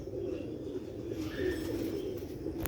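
A male Sialkot pigeon gives a low, steady cooing drone throughout, fairly soft and close, with no talking over it.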